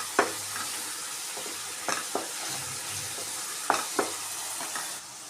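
Chili powder sautéing in a hot pan for channa masala, a steady close sizzle with several sharp scraping stirs of a spoon against the pan, no voices.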